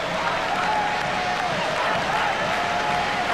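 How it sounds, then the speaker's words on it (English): Cricket crowd at the 1996 World Cup final, roaring and applauding Sri Lanka's win: a dense, continuous wall of cheering and clapping, loud and sustained throughout. "The crowd to man are cheering these Sri Lankans"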